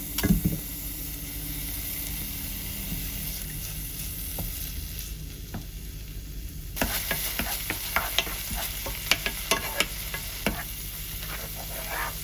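Minced garlic frying in a pan gives a continuous close sizzle, with a sharp flare partway through followed by spattering crackles and intermittent stirring clicks.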